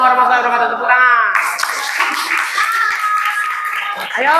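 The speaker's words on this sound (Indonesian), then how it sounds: "Tepuk tangan" A class of students claps after a group finishes its presentation, a burst of close, dense hand claps following a voice, with chatter continuing over the applause.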